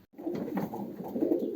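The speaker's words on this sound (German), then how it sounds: "Wunderschönes blaues Weibchen, kräftige Taube." A strong blue female pigeon gives a short, close, soft cooing call, a low warbling coo rising and falling over about a second and a half with no one talking.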